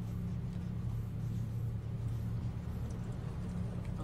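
Cars in the video game The Fall give a steady, low, droning rumble that holds at an even level without letting up.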